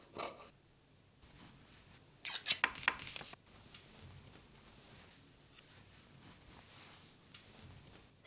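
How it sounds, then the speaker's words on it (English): Scissors snip through denim as panels are cut from the legs of old jeans, a quiet close sequence with a short burst of crisp cutting strokes near the middle amid soft handling noises. "Cut panels from remaining legs."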